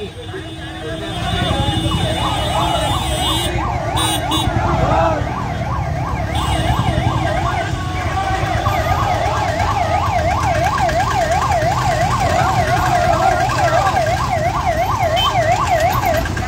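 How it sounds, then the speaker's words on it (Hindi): An ambulance siren wailing in a steady repeating up-and-down cycle as it is let through a candle march crowd of Uttarakhand corona warriors, loud and close over road traffic and crowd noise. "हमारे कोरोना वॉरियर एम्बुलेंस को निकलवाते हुए"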